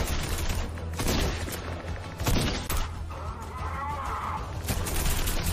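Dense gunfire in a shooter video game, a noisy stretch of overlapping shots and blasts with a few sharper bursts, busy game sound throughout.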